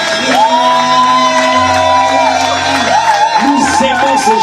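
A church congregation shouts and cheers loudly at a worship service, with whoops and sustained voices rising together over several seconds, a thick, continuous crowd roar.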